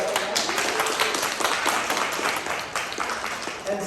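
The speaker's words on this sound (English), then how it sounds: "Let's give a huge round of applause" Warm applause from a podcast audience at the Museum of Chinese in America in New York, a dense wash of clapping with a few sharper claps that holds steady before easing slightly.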